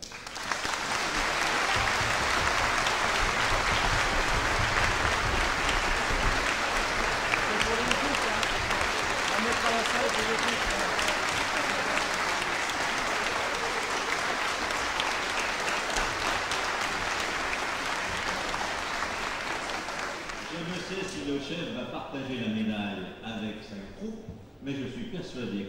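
A concert audience at a Harmonie band's Sainte-Cécile concert gives long, loud, sustained applause during a medal presentation. The clapping is dense and steady, then thins toward the end as voices emerge.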